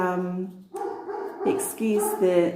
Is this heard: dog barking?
yes